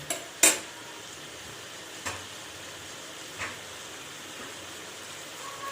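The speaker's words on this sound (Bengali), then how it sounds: "এবারে এটাকে ঢেকে দিলাম" A metal lid clanks down onto a pot of goat meat curry with one sharp knock, followed by a few softer taps and clinks against quiet kitchen background.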